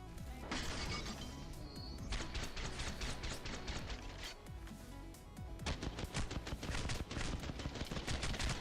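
Rapid automatic gunfire from an Apex Legends match, a steady stream of dense, loud bursts that briefly pause for a reload before resuming in quick volleys.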